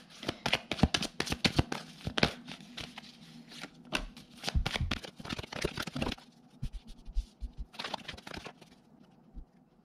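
Oracle cards being shuffled by hand, bursts of rapid riffling and slapping cards, close and crisp, with short pauses and a final flurry of shuffling near the end.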